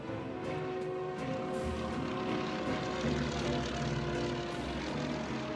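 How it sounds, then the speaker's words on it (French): A small Lysander propeller airplane drones steadily in flight, a continuous loud engine hum with a rough, throbbing texture that stays close throughout. "s'envole en Lysander, un petit avion tout-terrain qui peut atterrir dans un simple champ"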